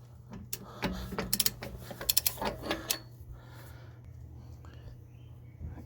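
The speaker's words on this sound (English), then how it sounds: "Inch-pound wrench." An inch-pound torque wrench ratcheting while wheel studs are fitted on the front of a Nissan R50 Pathfinder. Quick bursts of close clicks come in short groups over a low hum, then fade into quiet handling noise.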